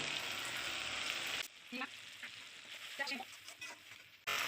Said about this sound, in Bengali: তো দেখো তিন মিনিট আমি কষে নিয়েছি দেখো তেল ছেড়ে দিয়েছে